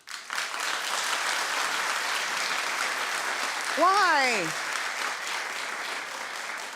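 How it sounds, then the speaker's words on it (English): A studio audience at a daytime talk show claps in a sustained, even burst; midway a single voice speaks briefly over the applause, which continues underneath. "clap if you think he should show remorse"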